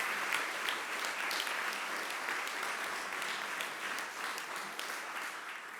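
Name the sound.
audience applause for event organizers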